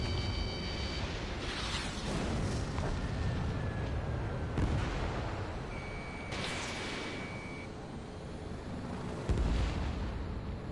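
Missiles launching and exploding in the flight combat video game Ace Combat 7 over a residential area: dense, continuous roaring jet and explosion noise with rumbling blasts and brief electronic warning tones.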